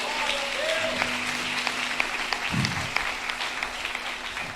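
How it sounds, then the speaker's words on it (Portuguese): A church congregation applauds steadily throughout, a dense and sustained clapping with a faint tone underneath. "Aplaude o teu Senhor, aplaude."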